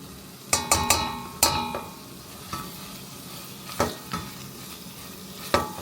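Tomato and pepper paste sizzles in a pan while a spoon stirs it, giving a few sharp scraping clacks early on and scattered knocks over a steady, soft frying hiss.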